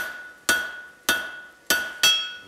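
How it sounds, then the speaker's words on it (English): A blacksmith's hammer strikes hot steel on an anvil while drawing out tong reins. Four sharp, ringing blows land at a steady rhythm, loud and close, and each one decays into a metallic hum with no talk. "Dig that toe of the hammer in."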